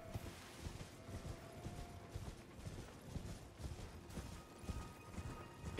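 Horse hooves clip-clop steadily in a video game, a fairly quiet, even stream of hoofbeats with low mechanical game ambience underneath and no talking.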